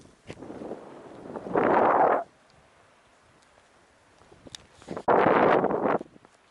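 Strong gusts buffet the microphone on an open bay beach near Vladivostok, two loud bursts of roaring wind separated by a lull of quieter breeze.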